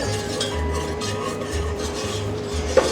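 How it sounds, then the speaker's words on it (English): A whisk scraping and stirring flour into melted butter in a pan, making a very thick roux for Bavarian pretzels; a steady close rasping and rubbing continues throughout with a small clink near the end. "And gonna whisk."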